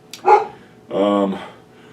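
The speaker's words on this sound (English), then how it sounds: "I can hear them barking now because the fucking mail is probably coming." Dogs barking at the arrival of the mail: two short, close barks, the second a longer, tonal bark.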